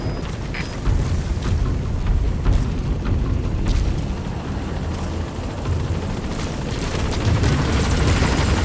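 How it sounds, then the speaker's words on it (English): A helicopter in the video game Metal Gear Solid V: The Phantom Pain gives a continuous, loud rotor thump and engine roar, with a few heavier booming hits mixed in. "I'll send the chopper."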